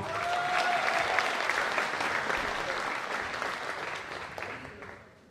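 A pageant audience applauds steadily as the third candidate is called up at the lace queen contest, a dense sustained wash of clapping that fades out near the end.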